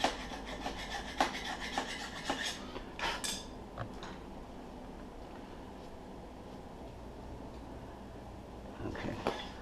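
A file rasps against a brake drum on an LLC Quadra Sprint, giving intermittent scraping strokes with metallic clinks, close up, over a faint steady background hum.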